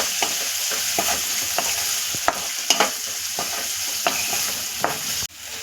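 Spices such as red chilli powder, goda masala and coriander powder being stirred together in a pan for a spicy dried shrimp chutney, giving a steady soft sizzle with repeated light scraping taps of the spoon, no talking.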